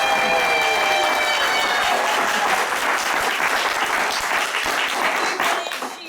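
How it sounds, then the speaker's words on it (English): A theater audience claps loudly and continuously to vote a guilty verdict at an improvised Law & Order comedy show, a dense, sustained round of applause that tapers slightly at the end. "If you believe that this woman is guilty, please clap now."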